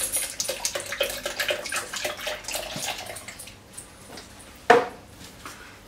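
Milk is poured from a container into a bowl of wheat starch and eggs for a sheet-cake filling, a steady close liquid splash that tapers off and ends with a clink of a dish or utensil.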